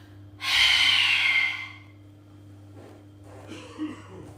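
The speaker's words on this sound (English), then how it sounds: "Exhale fully." A single long, forceful exhale through the nose during a yoga breathing exercise, close and loud, followed by quiet softer breaths against a faint steady hum.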